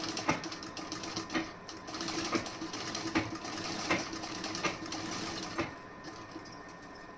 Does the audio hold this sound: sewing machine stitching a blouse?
yes